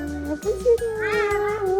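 A cat gives several close, loud meows, one drawn out and rising, with faint background noise between calls.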